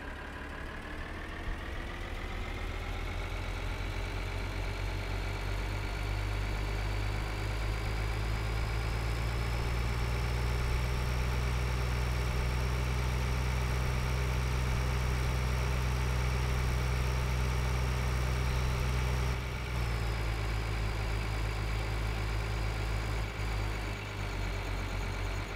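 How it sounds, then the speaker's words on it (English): A combine harvester's engine idles steadily in Farming Simulator 2013, a loud, constant low drone with a faint high whine, running alone with only a brief dip near the end. "Go back to our harvester."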